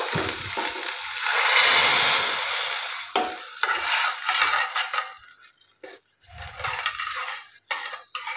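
Vegetable manchow soup with red chilli sauce is stirred in a pan on low gas, with a burst of sizzle, then scraping and clinking of a spoon against the pan in uneven strokes, close and without talk.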